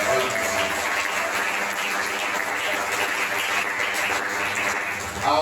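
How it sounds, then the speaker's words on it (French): A church congregation applauds and cheers during a French-language sermon, steady broadband clapping sustained and loud throughout, with crowd voices mixed in. "Si tu peux acclamer la parole de Dieu"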